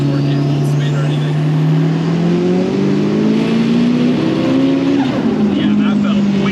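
Nissan S15 with a big turbo and anti-lag accelerating, a loud droning engine tone climbing steadily in pitch through the gear with a brief dip near the end, heard from inside the car.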